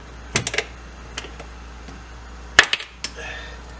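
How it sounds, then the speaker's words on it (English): An X-Acto knife cuts a wax sprue off a wax ring pattern held on a ring mandrel, giving a few short, sharp, close clicks and snaps spread over a few seconds with quiet between them. "We're just going to cut this sprue right off of there"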